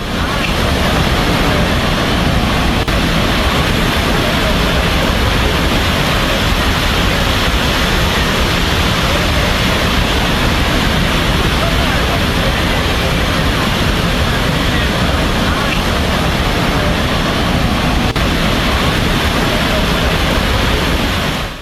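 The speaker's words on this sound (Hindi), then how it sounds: "पानी का बहाव देखिए जरा" Floodwater rushing through a flooded area in China, a dense, steady roar of torrent filling the whole stretch at constant loudness, with no breaks.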